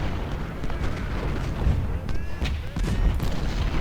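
Napoleon cannons firing in a Civil War battle in Ultimate General: Civil War, a dense, continuous rumble of overlapping booms with battlefield noise, no clear gaps between shots.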